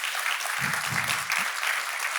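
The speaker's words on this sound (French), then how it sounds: "Un gros applaudissement" Audience applause at a business forum on the new economy, a steady wash of clapping across the whole stretch, fairly close, with some brief low vocal murmurs or cheers mixed in partway.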